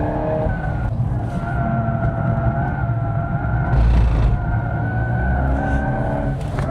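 A Volkswagen Golf R accelerating hard out of a corner, heard from inside as a steady loud engine drone with strong low rumble and tire noise, holding its pitch across the whole stretch.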